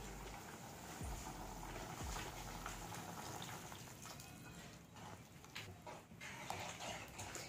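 Gram flour batter is poured into cooked carrots and beans in a pan, a steady low bubbling and sizzling wash of liquid that runs alone without speech.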